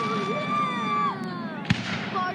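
Rapid-fire fireworks whistle and crackle, with one sharp bang partway through, loud and nearby amid voices.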